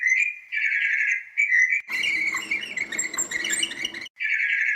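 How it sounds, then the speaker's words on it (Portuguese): A small bird chirps and trills in close, bright repeated notes, with a busier burst of mixed chirping in the middle before the steady trill returns. "Excelente! Um pássaro!"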